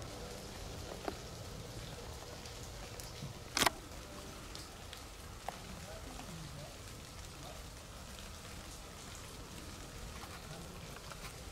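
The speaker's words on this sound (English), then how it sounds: "It was probably a terrible idea to make this video outdoors while it's raining." Rain falls outdoors in a steady, soft, even patter that continues throughout, with one brief sharp tap partway through and no voices.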